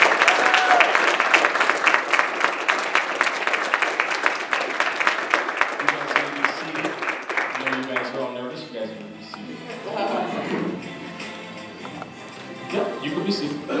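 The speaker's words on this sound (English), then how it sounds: "So if I can just give a round of applause for everyone here." A church audience gives a round of applause at a senior sendoff, sustained loud clapping for about eight seconds before it thins into scattered claps, shuffling and murmuring voices.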